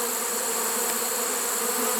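A small honeybee swarm hums steadily at a swarm trap: a dense, even, close buzz of many wings that holds for the whole two seconds without a break.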